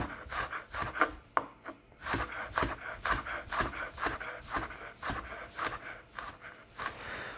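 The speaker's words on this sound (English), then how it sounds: "you're just going to thinly slice it" Garlic is sliced thinly with a knife on a board in a quick, even rhythm of close, crisp cuts, about two or three per second, with no voices.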